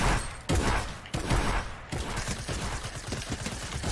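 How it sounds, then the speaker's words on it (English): Pistol fire in a squad battle royale match, a dense run of loud sharp shots and bursts, close and overlapping. "Someone chasing me with a pistol."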